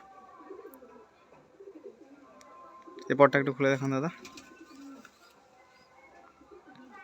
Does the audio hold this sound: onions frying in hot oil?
no